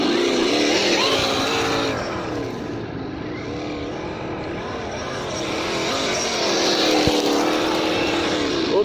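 A Losi Baja Rey RC car running on 2S whines along with a high electric motor pitch that rises and falls as it accelerates, with tire and gravel noise and a sharp knock near the end.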